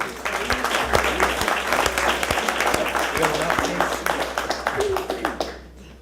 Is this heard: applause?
yes